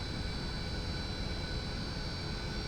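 Steady, loud drone of a twin-engine aircraft on approach in X-Plane 11 over the Southern Alps toward Courchevel, one engine out, holding an even, continuous tone throughout with no voices.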